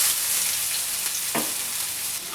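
Garlic and chili frying in a pan of oil, a steady broadband sizzle with a brief louder crackle partway through, close and continuous with no voices.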